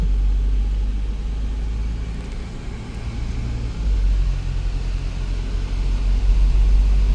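A twelve-wheel truck passes on a road, a steady low engine rumble that swells near the end, with no voices over it.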